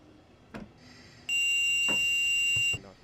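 A steady electronic warning tone sounds in a train cab in Train Sim World 4, a loud continuous beep of about a second and a half, set among fainter clicks and knocks.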